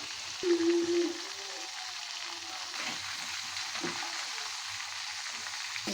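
Meat sizzles and crackles in hot oil, a steady close frying hiss with occasional clinks of a utensil stirring the pan.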